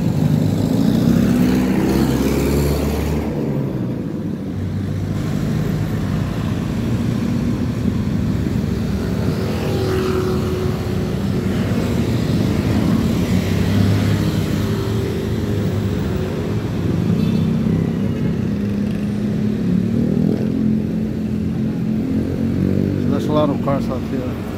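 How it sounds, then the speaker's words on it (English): Cars drive past on Gil Fernando Avenue, giving a continuous, loud traffic rumble with vehicles swelling and fading nearby while someone walking along the street talks over it. "A lot of cars out here."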